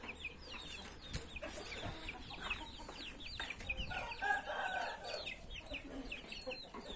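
A young pullet, one of Dalila's daughters that has just begun laying, clucks in a series of soft, close calls among other barnyard chickens, with faint background clucking and rustling throughout and no speech.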